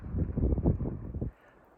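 Wind gusting across the microphone by a high mountain lake in the Sierra, a steady low rumble for over a second that then drops to a faint hush.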